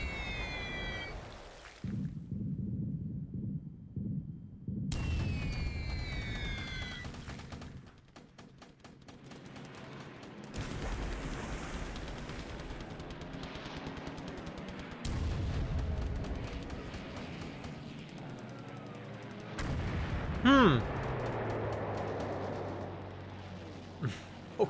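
Bombs going off in a naval war game set in 1941 with Japanese carriers: repeated heavy booms and rumbling blasts over about twenty-five seconds, with siren-like tones and a sharp loud hit near the end.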